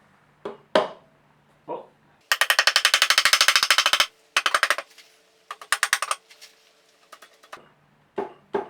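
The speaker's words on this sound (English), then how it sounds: "And then I have a little rubber mallet. It's just on the dowels." A small rubber mallet taps the engine casing of a Honda Bros NT400 to work it loose off its dowels, giving close, rapid clusters of hard knocks in bursts with pauses between, plus a brief exclamation.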